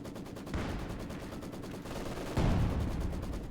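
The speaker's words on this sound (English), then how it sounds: "Maxim has the MG42 field bombarding again here, employing them efficiently to blast away through the German hardpoints here" Machine gun fire in the strategy game Company of Heroes 2, a sustained rattling stream of rapid bursts that swells louder partway through, with no talk over it.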